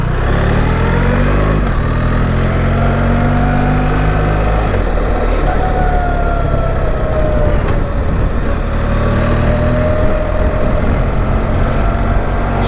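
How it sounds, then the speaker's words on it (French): A BMW R1300GS Adventure motorcycle engine with ASA automatic gearbox runs steadily throughout, its pitch rising and falling as it shifts and accelerates, loud and close with no talking. "Je ne suis pas habitué non plus au bruit du moteur."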